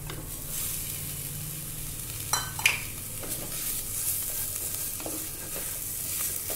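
Bitter gourd bhaji stirred in a hot pan, steady oily sizzling with a few sharp spoon scrapes and clinks against the metal, close and continuous with no talk.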